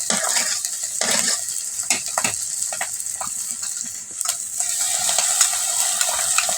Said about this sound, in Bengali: চিংড়ি মাছগুলো দিয়ে শুটকি দিয়ে এখন এটাকে বিরান করে নেব